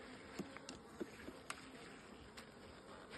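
Honeybees buzzing inside an open hive, a faint steady hum with a few brief louder passes of individual bees close by.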